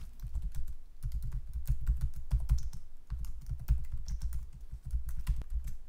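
Someone types on a computer keyboard while editing code: a rapid, irregular clatter of close keystrokes with brief pauses, and no voices.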